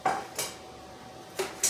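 Silverware being washed in a sink, with a few bright metallic clatters of cutlery knocking together, spaced out and close, over a low watery background hush and no talk.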